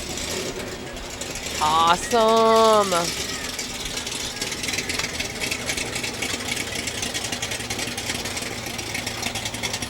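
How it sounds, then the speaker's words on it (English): A Camaro idles at a Fourth of July parade, its low engine rumble steady beneath street noise. A horn-like tonal blast sounds briefly early on, and a nearby voice speaks at one point. "Listen to that engine."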